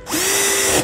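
A handheld power drill drives a screw to fasten a hinge onto a wooden cutting board, one short, steady, close-up whirring burst lasting under a second.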